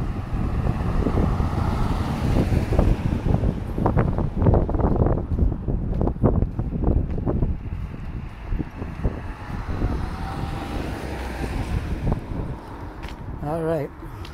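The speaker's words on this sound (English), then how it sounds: "I got a little bit of wind" Wind gusting outdoors on a downtown street in Dartmouth, buffeting the microphone in rumbling bursts while someone talks, with passing traffic faintly behind.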